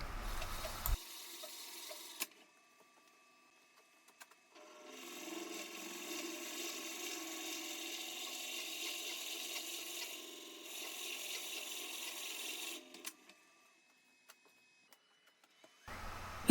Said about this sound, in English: drilling a hole down to my desired depth.